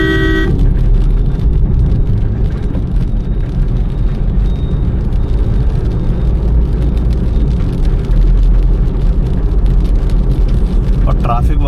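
Maruti Alto K10 with its 1-litre K10 engine driving through city traffic: a loud, steady engine drone and road rumble from inside the cabin, continuous throughout, with a voice faintly present at times.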